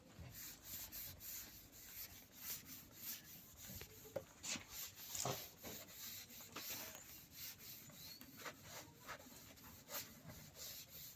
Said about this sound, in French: maintenant on va essuyer